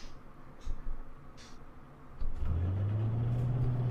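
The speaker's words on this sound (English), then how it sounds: "Turn on the bus." Alexander Dennis Enviro 200 bus starting up in OMSI 2: quiet low background with faint clicks, then at about two seconds a diesel engine turns over and settles into a loud, steady rumbling idle that holds to the end.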